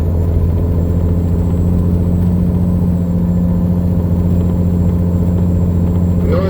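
A vehicle engine runs at high RPM while climbing Atigun Pass in a snowstorm, a steady, loud, droning rumble with a constant low hum and no pauses throughout.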